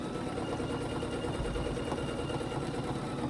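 Sewing machine quilting ruler work on a quilt block, a steady close mechanical whir running continuously without pause, no voices.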